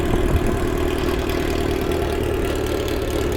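A big motorcycle with a stock exhaust and no muffler runs steadily close by. It makes a loud, continuous, rough engine drone that holds an even level throughout, with no talking.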